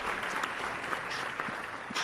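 Applause sound effect played during a livestream, a continuous patter of many clapping hands at moderate level, with a faint voice underneath.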